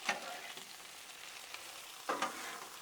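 Tomato sauce in a pan being stirred, a soft steady sizzle with a few louder scraping stir strokes, close and quiet.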